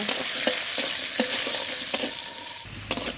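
Ginger, garlic and green and dried chillies fry in mustard oil in a wok, a loud continuous sizzle broken by regular scraping strokes of a spatula, close up and without talk.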